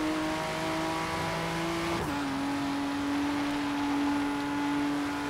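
A car engine droning steadily in Forza Horizon 3, with a shift in pitch about two seconds in as the car changes gear or speed, a continuous mechanical hum with no voices over it.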